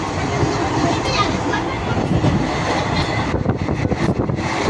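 A train rumbles along as heard from inside the carriage, a loud continuous roar with rattling, nearing Shegaon.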